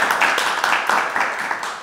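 A group of young children claps together after a poetry reading about grandparents, a short burst of quick, uneven hand claps at moderate loudness with no speech over it.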